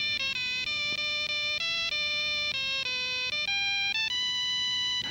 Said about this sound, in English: The Network chronograph has this alarm.